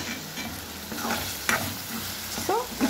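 Tomatoes with salt frying in a pan for paneer curry, a close, steady sizzle with repeated scraping stirs and a few sharp utensil clinks toward the end.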